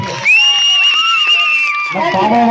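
An audience at a live comedy stage show cheers and whoops loudly, with bright, sustained shouts and whistles riding over a dense crowd roar for a couple of seconds.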